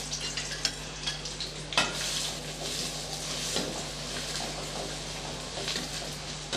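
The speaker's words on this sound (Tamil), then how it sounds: "வெங்காயம் வந்து நல்லா ஒரு ப்ரௌன் கலர் வர வரைக்கும் நல்லா வதக்கி விட்டுக்கணும்" Sliced onions sizzle and fry in oil in a pan for chicken biryani, a steady close hiss with occasional scraping stirs.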